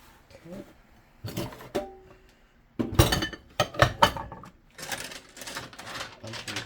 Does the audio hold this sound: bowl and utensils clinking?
yes